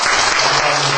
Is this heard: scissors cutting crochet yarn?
no